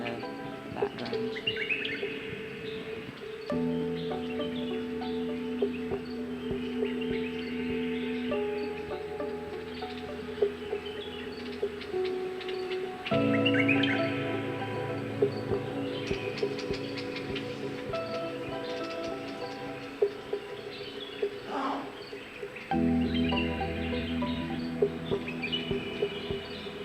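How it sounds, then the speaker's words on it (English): Birds chirp and sing throughout an oasis in Abu Dhabi, scattered calls over a steady low droning hum that shifts in layers. "And you can hear the birds in the background."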